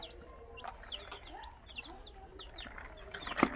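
Chickens and chicks on a rooftop clucking and cheeping softly, a busy overlapping stream of short chirps and clucks nearby, with a brief louder rustle near the end.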